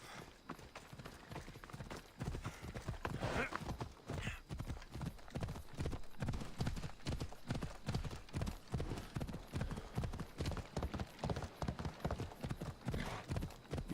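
Horse hooves clip-clop at a steady, quick pace during gameplay of Assassin's Creed Odyssey, faint but continuous under a low wash of ambient game sound, with no talk.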